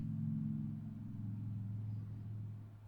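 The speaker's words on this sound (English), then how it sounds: "Sorry about the traffic noise." Low, steady rumble of road traffic nearby, a continuous engine drone that swells slightly and then fades.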